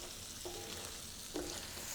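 Fresh oregano and herbs fry in a pan, a steady soft sizzle with a couple of brief stirring scrapes, close and fairly quiet.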